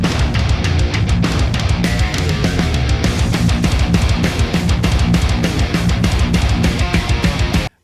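An unprocessed instrumental band mix with no master bus treatment plays continuously, dense drums and full-range instruments loud throughout before stopping abruptly at the end.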